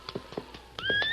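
A horse's hooves clip-clop in a few quick close steps, then the horse lets out a loud, rising whinny that holds to the end, in an old western drama scene.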